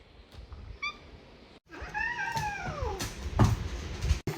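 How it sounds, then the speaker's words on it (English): A cat meows twice, a short high call followed by a longer drawn-out meow with a falling pitch, heard close and alone against a faint room background with a few soft bumps. "Wow, a cat."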